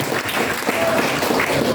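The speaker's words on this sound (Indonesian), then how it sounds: "Tepuk tangan dong buat PBB." Audience at a PBB regional party meeting clapping briefly, a short burst of loud applause mixed with crowd noise and some voices nearby.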